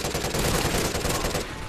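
Dense automatic gunfire from a Call of Duty Ghosts match on the Collision map, a steady loud rattle of rapid shots filling the whole moment with no pause.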